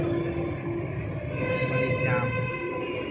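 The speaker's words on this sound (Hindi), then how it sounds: "छोटा मिनी ट्रेन" A small mini train rumbles past close by near the railway station in Varanasi, a steady, loud rolling of wheels on rails with faint squeals, and voices can be heard under it.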